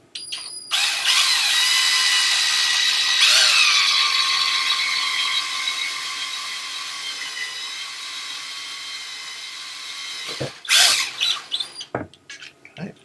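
A loud power tool whines steadily for about ten seconds, its pitch shifting slightly, then cuts off into a few short bursts and clatters.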